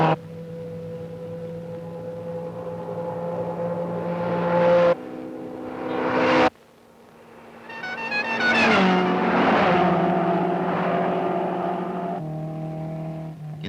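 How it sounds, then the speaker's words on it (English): Rally cars of the 1976 Safari Rally racing through the streets of Mombasa: loud engines revving and accelerating close by, with abrupt changes between cars and a passing surge of higher-pitched engine noise. "The streets of Mombasa are ablaze with rally cars rushing towards Nairobi."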